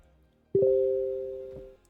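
A steady telephone dial tone from a phone in the Arizona RP video game, beginning abruptly after a brief click and holding clear and loud for just over a second before cutting off.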